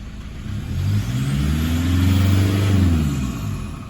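A Toyota 1KD-FTV diesel engine with injector trouble, fitted with new injectors, revs up smoothly and steadily, its low rumble rising and falling over a few seconds, close and loud with no talking.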